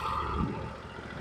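A loud sawmill engine on a Norwood HD36V2 mill running steadily nearby while milling fence boards, a low rumbling drone with no pauses.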